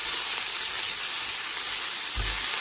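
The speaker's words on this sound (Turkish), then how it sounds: "Aynı tavanın içine yağ koydum. Şimdi soğanı orada bir güzel kavuracağım." Onion frying in oil in a pan, giving a dense, even sizzling hiss that runs without a break, with a brief low thump near the end.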